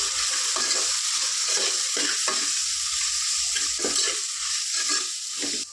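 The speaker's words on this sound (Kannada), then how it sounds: "ಇದೆಲ್ಲ ಕೂಡ ಎಣ್ಣೆಲೇ ಚೆನ್ನಾಗಿ ಫ್ರೈ ಮಾಡ್ಕೋಬೇಕು" Garam masala and chili powder fry in oil for a vegetable pulao, a steady bright sizzle broken by repeated scraping stirs of a spatula in the pan, close and continuous.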